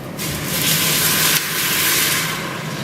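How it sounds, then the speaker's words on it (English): Pre-boiled water, about a litre, pours with a hissing, splashing rush into a pot of rice, loud and close, starting abruptly and continuing for a few seconds. "I'm now going to add some pre-boiled water."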